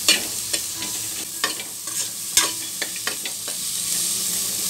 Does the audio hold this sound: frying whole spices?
yes